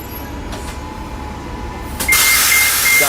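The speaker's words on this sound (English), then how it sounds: "That was so loud. That was a bus." A loud bus passes close by, its rumble building and then surging into a harsh, hissing roar near the end.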